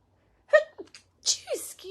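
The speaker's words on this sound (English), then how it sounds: "Excuse me, I may sneeze." A woman sneezes once, sharp and close, amid soft breathy sounds and brief spoken words in a quiet room.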